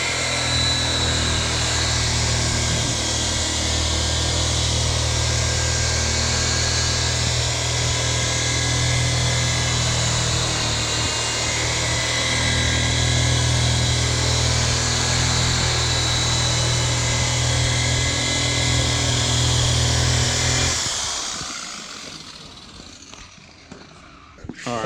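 Power polisher buffing boat gel coat at roughly 2,500 to 3,000 RPM, giving a steady, loud whirring drone that holds for about twenty seconds before cutting off abruptly and spinning down.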